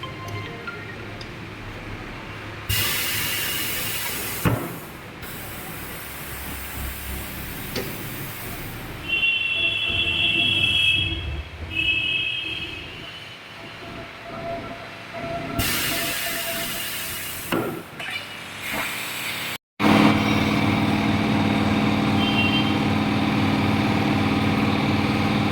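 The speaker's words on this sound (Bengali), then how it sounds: "মেশিনের সাহায্যে এখন টায়ারটা আলাদা করা হবে রিম থেকে।" A pneumatic tyre changer separates a motorcycle tyre, an Apollo Tramplr ST 140/70-17 for a Bajaj Dominar 250, from its rim in a workshop, with loud bursts of compressed-air hiss, a steady mechanical drone and occasional clanks.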